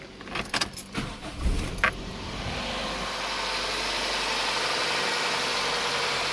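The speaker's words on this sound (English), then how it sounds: "I don't want to hang around here too long with the car running" An early car being readied for compression tests idles steadily at close range after a few clunks and rattles, its low engine hum continuing evenly with no talk.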